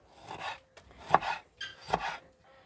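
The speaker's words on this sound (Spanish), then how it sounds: "Voy a picar el ajo. Voy a picar el tomate." A kitchen knife chops garlic and tomato on a board, heard close up as three short bursts of quick, crisp cuts separated by brief pauses.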